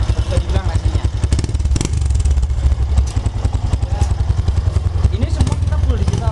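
A TVS Tormax motorcycle with a racing-mode exhaust runs close by with a steady, loud, low engine rumble and throbbing pulses throughout, while people talk over it.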